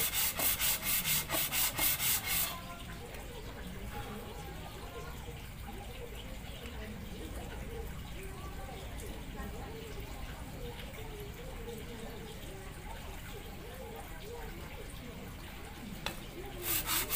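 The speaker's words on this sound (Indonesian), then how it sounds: "Oke lanjut, kita masih mau amplas." Honda Vario Techno radiator being sanded by hand, a soft continuous rubbing scrape with a brief louder burst at the start and end.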